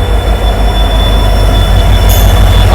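Railway locomotive of the Ahmedabad Jammu Tawi Express moving away to reverse and reattach, heard as a loud, steady low rumble with a thin high-pitched wheel squeal running throughout and a brief hiss near the end.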